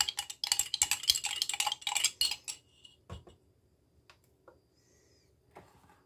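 Quick clinks of a small spoon against a container while sourdough starter and flour are stirred, in a close rapid burst for a couple of seconds, then a few isolated taps in near silence.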